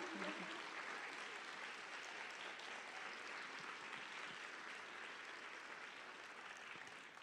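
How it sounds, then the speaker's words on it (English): Sustained audience applause fills a TEDx event hall, a steady, even wash of clapping that stays fairly quiet throughout, as if heard from a distance. "So please join me in an applause for this team."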